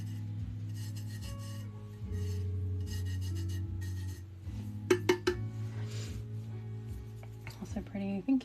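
Colour being rubbed into white paper, a soft repeated rasping scrape in steady strokes, close and moderately loud, under a continuous low hum with a few sharper taps and clicks near the end.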